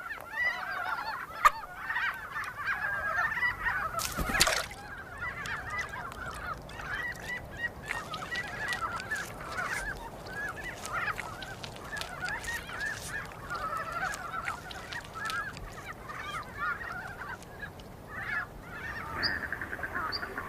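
A flock of cranes calls in a wild Asian winter setting, giving many overlapping honking, trumpeting cries at a moderate distance, continuous and busy across the whole stretch with no voices.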